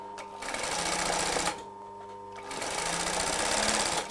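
A sewing machine runs in two steady, fast-stitching bursts, close and clear, with a short pause between them.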